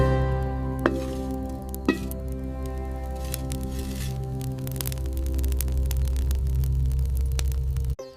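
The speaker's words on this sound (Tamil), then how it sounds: "மண்பானையிலிருந்து மாவை எடுத்து சுடும் அடுப்பில் ஊற்றி" Appam batter taken from a clay pot and poured onto a hot pan sizzles in a steady hiss. A couple of sharp clicks come near the start, and a low hum runs underneath.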